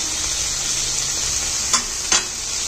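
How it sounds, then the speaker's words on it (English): Tomato added to a hot pan with pasta sizzles in a steady, close hiss, with a couple of brief clinks from a utensil and no talking. "Now I'm going to add the tomato now."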